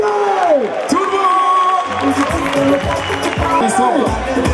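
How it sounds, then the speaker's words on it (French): A crowd at a toro piscine bull game in Beaucaire cheers and whoops, loud and close, while an announcer talks over the noise. "Allez, on peut l'applaudir s'il vous plaît."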